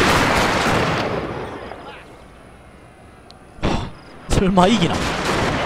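Rapid gunfire from massed Gatling guns in the strategy game Total War: Shogun 2, fired at a large force of pike conscripts. Dense crackling fire opens loud, fades, then returns in sharp bursts while someone speaks briefly.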